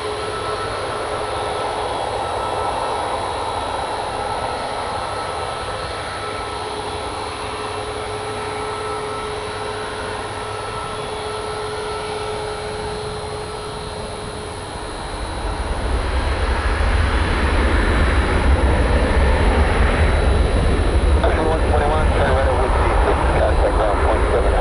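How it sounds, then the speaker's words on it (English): A Silver Airways airliner on final approach to Tampa International Airport, engine roar building from a distant hum to a loud, close rumble partway through, with outdoor ambience. "We got Silver Airways on final for one right."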